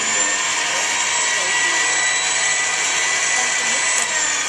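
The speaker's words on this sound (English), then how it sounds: "It's a blender." A steady, loud high-pitched motor whine drones on without pause, a continuous mechanical buzz like a blender running at full speed.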